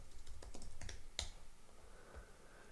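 Keystrokes on a computer keyboard while entering a product type into an online seller listing form, a quick burst of light clicks followed by a few scattered taps, close and faint with no talking.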